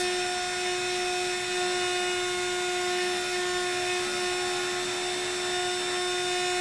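CNC router spindle spinning at around 13,000 RPM for a wine caddy project, giving a constant, close, steady whine with pronounced tonal hum and no pauses.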